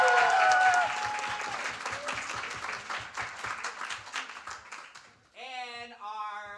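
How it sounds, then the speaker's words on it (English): Audience applause for the second-place winner at a state poetry recitation final: dense clapping that gradually thins, then gives way to a speaking voice at the end. "please give a round of applause for Faiza Abu Bakar"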